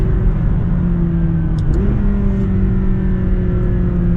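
A McLaren 570GT's turbocharged engine drones steadily from inside the car in track mode, with a clear gear change partway through and no talk.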